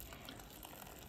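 Hot water pouring from a kettle onto instant noodles with Marmite and oxtail flavouring, a steady close gushing splash throughout the short moment.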